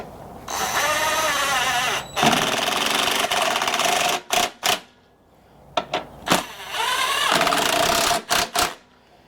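An impact wrench tightens a bolt on a Honda mower, firing in loud hammering bursts of a second or two, separated by quick trigger blips and short pauses, with a final burst near the end.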